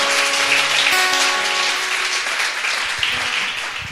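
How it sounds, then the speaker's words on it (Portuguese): A church congregation breaks into sustained applause, loud and dense clapping filling the room for several seconds while a held keyboard chord rings beneath it. "Uma salva de palmas ao Senhor que não desiste de nós"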